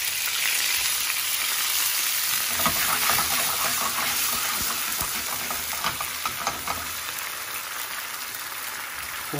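Water hits seared marinated beef skewers in a hot pan, setting off a loud, steady sizzle with crackling bursts that run unbroken throughout.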